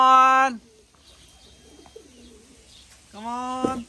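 A racing pigeon at a loft coos in two short, close bursts separated by quieter rustling, with a voice briefly heard in the background.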